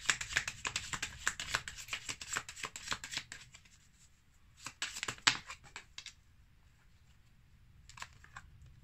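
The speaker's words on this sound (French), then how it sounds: "je vais tirer une carte de l'oracle des amoureux" Oracle cards being shuffled by hand, a close run of rapid papery flutters and riffles that thins into a few scattered soft snaps and taps, with no talking.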